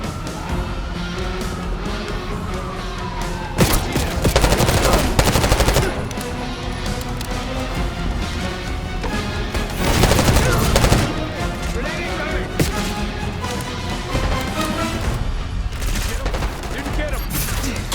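Light machine gun fire in the PC shooter Black Ops 6 rips out in long, loud rattling bursts, with heavier volleys around the middle and again later, over a constant battle din.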